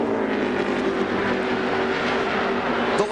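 Jeff Gordon's NASCAR Winston Cup stock car races at Indianapolis in the Brickyard 400, a loud steady engine roar with a droning, buzzing tone held throughout and a slight shift near the end, no talking.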